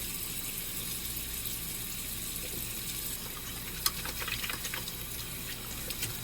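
Water runs steadily from a tap, a continuous close gush with a few brief splashes, as a Farmasi Dr. C. Tuna face skin care product is rinsed off the skin.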